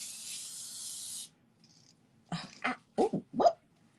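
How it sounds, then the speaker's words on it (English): A steady hissing spray from a scented household spray bursts for about a second, then after a pause a few short vocal sounds follow. "I just walk around all day in my house spraying this."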